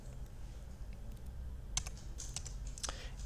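Keys clatter on a computer keyboard as a number is typed, a quiet stretch followed by a few sharp clicks in two short bursts, fairly close, with no talking.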